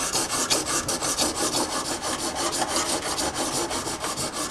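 A chisel being honed on a flat sharpening stone, giving a fast, even rhythm of gritty rasping strokes back and forth that carries on steadily with no talking.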